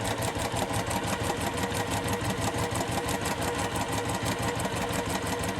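A domestic sewing machine stitches a Dresden quilt with a steady, rapid mechanical whir and needle chatter, close and continuous throughout with no pauses.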